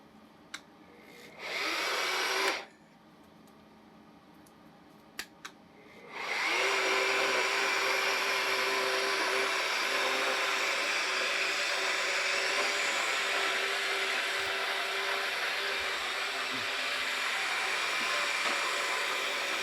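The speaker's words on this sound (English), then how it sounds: "our immersion blender." An immersion blender whirs through hot sauce ingredients, with short bursts early on and then a long, steady, loud motor whine that runs to the end.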